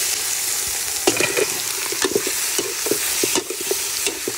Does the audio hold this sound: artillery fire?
no